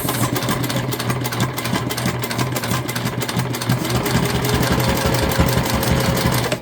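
A sewing machine running a basting stitch, a loud, fast, steady mechanical whir and chatter that holds at a constant pace throughout, heard close up.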